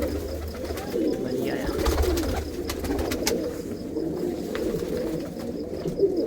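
A dense chorus of cooing tournament flying pigeons hums continuously, broken by occasional sharp clicks and fluttering, like a crowded loft.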